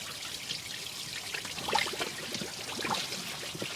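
Water flows out of a truck being flushed, a steady, moderately loud trickling and pouring stream with splashes, continuous and fairly close, with no voices.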